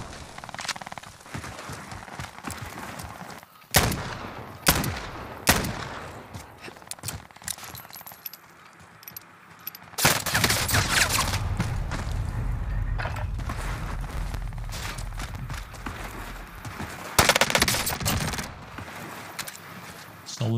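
Gunfire in Call of Duty Warzone, several sharp separate shots early, then a sustained loud stretch of firing and action noise, with a few more cracks near the end.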